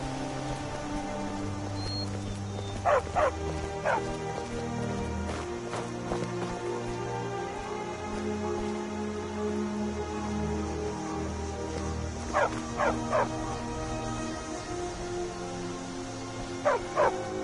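A dog in the game Skyrim barks in short doubled yips at intervals over a steady ambient bed of rain-like hiss and low tones, with no talking.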